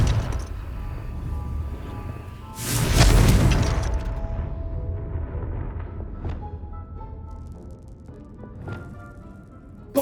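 A Confringo spell explodes in the Hogwarts Legacy video game: a loud, sudden blast with a rumbling tail, followed by fainter scattered impacts and debris pops.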